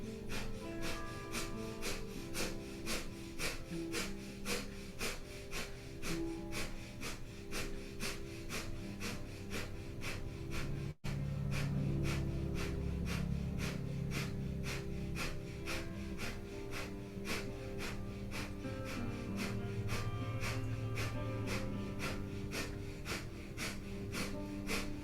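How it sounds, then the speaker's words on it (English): Rapid nasal panting of breath of fire during a Kundalini yoga spine kriya: quick, evenly spaced breath pulses continue steadily over a low, constant background. "we'll begin breath of fire, panting like a dog through the nose"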